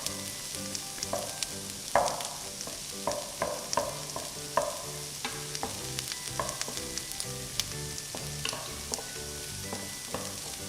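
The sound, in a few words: onions frying and being stirred in a pan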